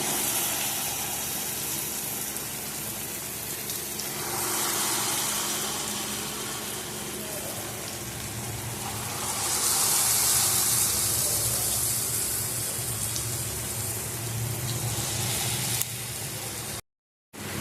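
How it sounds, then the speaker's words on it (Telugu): Mysore bonda batter drops into hot oil and fries with a continuous bubbling sizzle. The hiss swells briefly around the middle and then settles back to a steady fry. "మైసూర్ బోండా వేసుకుంటున్నాను నూనెలో."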